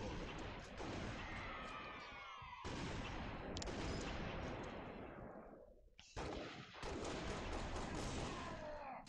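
Heavy gunfire in Halo: Reach Firefight, loud sustained bursts of shots and explosive blasts that drop out briefly between volleys and then resume.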